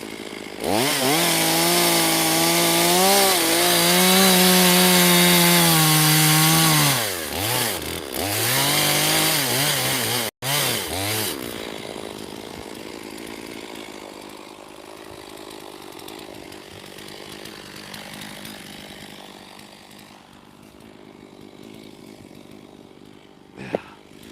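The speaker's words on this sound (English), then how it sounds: "I think I'm just gonna cut this piece of plywood out of this." A powered saw cuts through a piece of plywood outdoors among leftover black locust and cherry logs, first with a loud, steady high whine, then a quieter rough running hum that continues after the cut.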